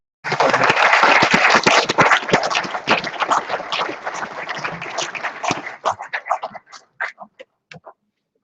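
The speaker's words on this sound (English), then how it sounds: "I would expect all of you to give a big round of applause to Justice." A round of applause from the audience at an international dialogue on Himalayan ecology, loud and dense at first, then thinning into scattered claps before stopping.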